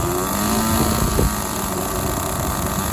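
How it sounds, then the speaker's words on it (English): A model glow engine running slightly rich, loud and close with a rough, gurgling buzz, steady throughout with wind-like noise over it. "If you notice that gurgling noise as it's picking up, that's a little bit rich."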